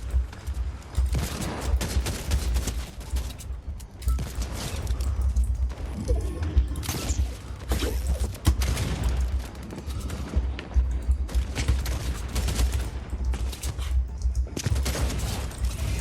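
Dense, continuous gunfire in a Fortnite ranked match, rapid overlapping bursts and shots close by, loud and sustained throughout with no talking.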